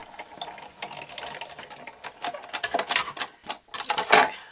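A Big Shot die-cutting machine cranks a stitched square die through with a dense, grinding mechanical clatter that builds and swells, close and fairly loud, with no voices.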